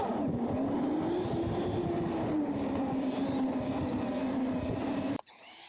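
An Arrma Gorgon RC monster truck on a dirt bash run gives a high, continuous electric motor whine for about five seconds, rising and falling with throttle under a rough, gritty rumble from the tires, then cuts off abruptly.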